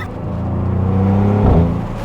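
A Maserati GranCabrio convertible's engine drones loudly and close, then its exhaust gives a short, throaty burp as it upshifts before the steady tone resumes.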